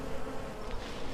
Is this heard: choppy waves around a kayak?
no